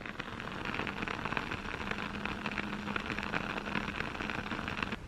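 A lit candle crackles and sputters continuously, a soft, steady patter much like light rain, heard close and fairly quiet with no talking.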